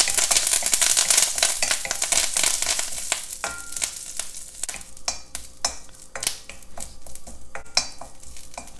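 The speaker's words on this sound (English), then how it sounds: "Fry the curry leaves a little bit." Curry leaves frying, a bright, loud sizzle that eases after a few seconds into crackling bursts and repeated stirring scrapes against the pan.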